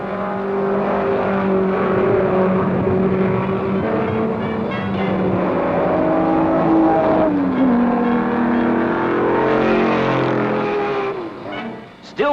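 A 1964 Lotus Cortina race car accelerates hard out of the Webster turns at Sebring, its engine roaring loud and sustained with rising pitch sweeps as it pulls through the gears, joined by other cars' engines.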